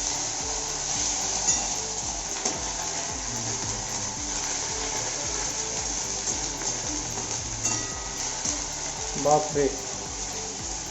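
Onion, garlic and ginger paste fry and spatter in a pan, a steady crackling sizzle with faint clattering and ticking, interrupted by a brief spoken exclamation.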